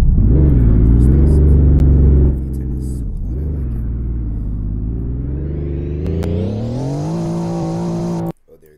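The CG3 car in Project: No Hesi drives on a highway, its engine droning loud and close, easing off, then revving up through rising pitch before cutting out abruptly at the end.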